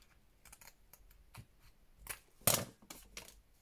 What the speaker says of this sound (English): Trim off that corner.